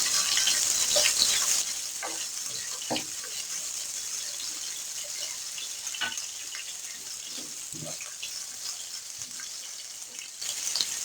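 Finely chopped onion fries in hot oil for a spiced potato-and-pea pulao, a steady bright sizzle throughout with scattered stirring scrapes and knocks, close and fairly loud.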